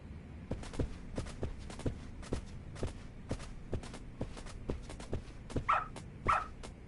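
Dog barking in the video game Lost Judgment, a run of short sharp barks repeating at a steady rhythm over low background noise, with a couple of louder yelps near the end.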